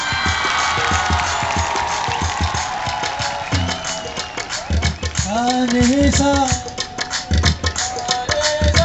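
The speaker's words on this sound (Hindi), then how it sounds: "प्रोफेसर रियाज अहमद कादरी का लिखा हुआ कॉलेज ऑफिशियल सॉन्ग कॉलेज के स्टूडेंट्स पेश करेंगे आपकी भरपूर तालियों में" Crowd cheering and clapping at a college games opening ceremony, a steady roar of noise that gives way partway through to a sung tune rising above the crowd.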